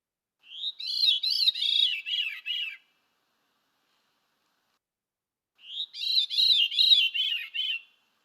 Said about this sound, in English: Here is a song of the Veery.